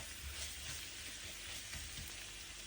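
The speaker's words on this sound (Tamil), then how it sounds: "எல்லாத்தையும் போட்டு நல்லா வதக்கணும். மிளகாய் இந்த மணங்களை நான் போகும் வரைக்கும் நல்லா வதக்கி விடுவோம்." Chillies and onions sauté in a hot pan, giving off a steady, close, continuous sizzle and crackle with faint stirring and no talking.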